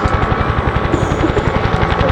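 A Bell UH-1 Huey helicopter flies an air show display at Duxford, its rotor blades thudding in a steady, rapid beat over a continuous engine whine, loud and close throughout.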